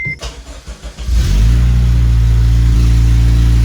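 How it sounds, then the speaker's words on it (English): After a few cranking turns, a car engine catches and settles into a loud, rough, rumbling idle with a raspy exhaust note from an exhaust leak with a missing donut gasket, close by. "That loud noise that you hear is the exhaust leak, because the donut is missing."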